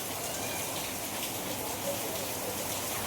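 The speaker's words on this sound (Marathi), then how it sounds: "कंटिन्यू पाऊस पडतोय, कंटिन्यू." Continuous rain falls outdoors in a soft, unbroken patter, fairly quiet and steady throughout with no talking.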